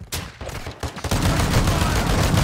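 Rapid gunfire in a shooting video game, with loud back-to-back bursts and sustained automatic fire that grows denser toward the end, with a voice briefly heard under the shots.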